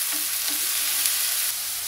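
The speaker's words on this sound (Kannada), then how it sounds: "ಫಸ್ಟ್ ಇವಾಗ ನಾನು ಆನಿಯನ್ ಪೇಸ್ಟ್ ಹಾಕ್ತಾ ಇದ್ದೀನಿ. ಇದು ಸ್ವಲ್ಪ ಹಸಿ ವಾಸನೆ ಹೋಗೋ ತನಕ ಒಂದು ಸ್ವಲ್ಪ ಹುರ್ಕೊಳ್ಳೋಣ." Onion paste frying in hot oil for a cauliflower and peas curry, a steady close bright sizzle with a faint soft crackle throughout the short span, no voices.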